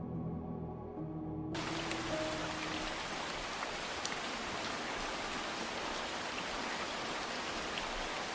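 Heavy rain showers marking the start of the rainy season, a dense, steady hiss of rain on surfaces that sets in after a short stretch of music and continues loud and unbroken, with no talk.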